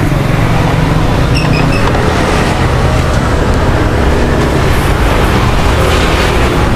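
A vacuum bleeder draws brake fluid through the rear disc brake of a Yamaha N-Max scooter, giving a loud, steady hiss and rush that continues without pause.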